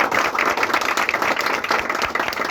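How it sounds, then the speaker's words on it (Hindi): Enthusiastic audience applause fills a hall at an army written-exam coaching academy event, a dense, steady wash of many hands clapping at once, loud and continuous with no talk over it. "इनके नाम पे जोरदार तालियां"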